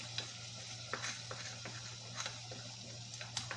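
Turmeric, chili, cumin and coriander sizzle in hot oil for a Balti fish curry, a quiet steady fry broken by several light clicks of a spoon stirring against the pan.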